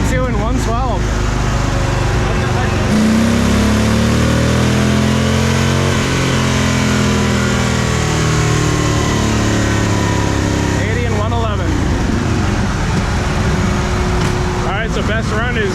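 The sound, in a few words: car engine revving during a dyno run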